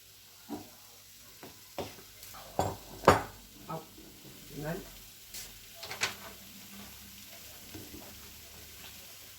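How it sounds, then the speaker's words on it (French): Leeks sautéing in a pan for a tartiflette tart, giving a soft steady sizzle with scattered clinks and stirring knocks of utensils near at hand, while a voice talks over it. "Pendant que vos poireaux se mettent, vous les faites revenir"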